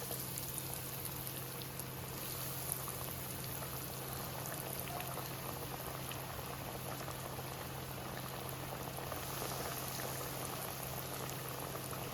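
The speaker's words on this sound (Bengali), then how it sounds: "আমার তেল গরম হয়ে গেছে আমি এদিকে অ্যারারুট গুলিয়ে নিয়েছি এদিকে বিস্কুটের গুঁড়ো নিয়ে নিয়েছি গেরুয়া বিস্কুটের গুঁড়ো এরপরে আমি একটা একটা করে ভেজে নেবো" Loté fish (Bombay duck) cutlets coated in arrowroot batter and biscuit crumbs deep-fry in hot oil, giving a steady, dense bubbling hiss that carries on evenly throughout with no voices.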